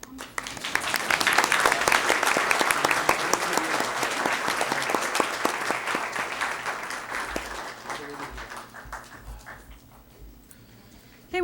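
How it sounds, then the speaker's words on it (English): Audience applause for a high school all-district choir at a school board meeting, dense steady clapping that holds for about eight seconds before thinning out and fading. "We may applaud."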